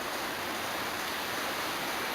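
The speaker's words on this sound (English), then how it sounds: "It's pouring with rain" Heavy rain pouring down steadily outdoors at a campsite, a dense continuous hiss close by with no breaks, no voices over it.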